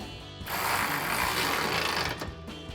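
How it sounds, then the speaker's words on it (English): A 13mm socket ratchet tightening a nut during a RAM 1500 side step bar install, making a close, continuous rapid clicking of the pawl for about two seconds. "we can take our 13mm socket to tighten down our nut"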